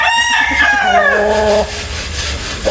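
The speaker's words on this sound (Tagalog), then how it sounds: "Ito pa yung mga manok na." Chickens cluck in short repeated bursts close by, with a rooster-like drawn-out call rising over them, loud and busy with farmyard noise behind.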